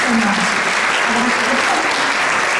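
Commencement crowd applauding an award recipient, a steady, full burst of many hands clapping throughout, with a voice briefly audible underneath.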